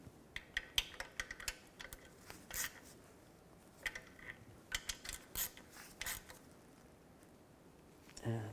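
Oil pan bolts being tightened on a 2011-2014 Chrysler 200, heard as scattered, fairly faint ratchet clicks and metallic taps in short bursts with quiet gaps between them.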